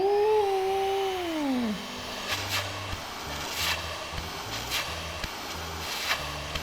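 An AIRBOT CV100 handheld vacuum cleaner runs steadily nearby, its motor whine dropping in pitch early on before settling into a continuous airflow roar with occasional light clicks and rubbing.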